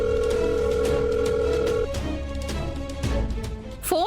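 A telephone rings unanswered, its tone sounding steadily at first before dropping away, with a background musical drone beneath it.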